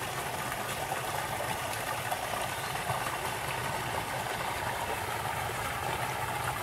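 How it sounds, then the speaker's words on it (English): A small waterfall in a creek near Peachtree Creek, Mason Mill Park, rushes in a steady, broadband wash of falling water that stays even and fairly loud throughout, with no voices over it. "And here's a little waterfall."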